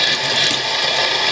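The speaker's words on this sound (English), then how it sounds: "Sorry for the noise of the tap," Tap water rushes steadily and loudly into a sink as makeup brushes are rinsed under it, a continuous hiss without pauses.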